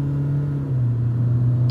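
A car engine in third gear, from a Honda Civic versus Hyundai Verna 1.6 drag race, holds a steady low drone that drops slightly in pitch partway through as it labours up a slope, close and loud, with no talking.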